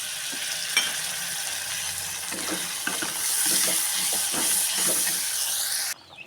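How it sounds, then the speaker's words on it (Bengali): Ghugni, a spiced pea curry, bubbles and sizzles steadily in a pan, with soft pops and a continuous hiss that cuts off sharply near the end; no one speaks. "আমি ঘুগনি সেটগুলো দিয়ে দিয়েছি আর ফুটে উঠেছে"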